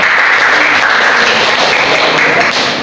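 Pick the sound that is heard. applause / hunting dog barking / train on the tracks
applause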